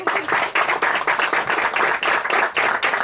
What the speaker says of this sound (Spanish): Señores, un aplauso